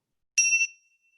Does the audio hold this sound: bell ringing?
yes